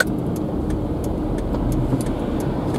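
A car sitting in road traffic: a steady, close engine and road hum with a low rumble, continuous and unbroken, with no voices.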